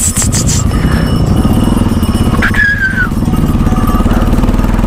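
An off-road motorcycle engine climbing a rough mountain trail between Marpha and Upper Mustang in Nepal, running loud and close with a steady, throbbing drone that rises in pitch as the rider accelerates.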